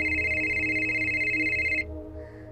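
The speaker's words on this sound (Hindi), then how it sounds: "कब से फोन कर रही हूँ, फोन क्यों नहीं उठाया? पूरी 10 बेल्स चली गई थी।" A mobile phone rings with a steady electronic tone that holds for nearly two seconds and then cuts off, leaving a quieter hum behind.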